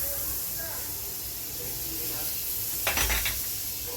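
Butter hitting a hot pan while cooking sabudana khichdi, a soft steady sizzle and hiss throughout with a brief louder crackling burst near the end, close and moderate in level.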